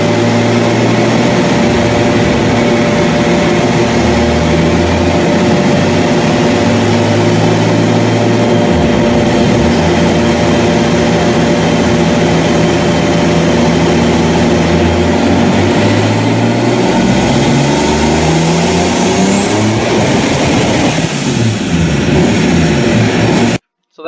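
Recorded playback of a turbocharged BMW E46 engine on a GT3582 turbo running for 24 seconds, a loud steady engine drone with a faint rising whistle near the end.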